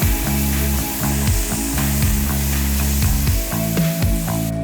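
Onions and garlic fry on high heat for a Sunday dinner of rosemary chicken and tortellini, giving a steady, close sizzle over a low droning hum with faint stirring clicks throughout.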